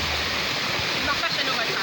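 A river rushing and splashing steadily throughout, a broad close wash of water noise with a faint voice barely audible in the background.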